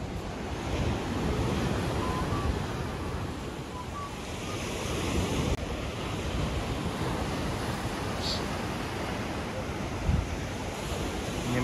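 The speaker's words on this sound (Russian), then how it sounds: "Посмотреть на красивое море, волны." Sea waves wash steadily onto the shore, a continuous broad surf roar with a touch of wind noise, no voices standing out.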